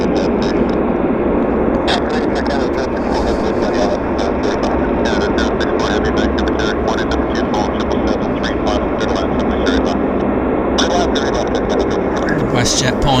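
WestJet airliner on its takeoff roll at Vancouver airport, a loud continuous engine roar filling the whole stretch, with a person talking over it throughout.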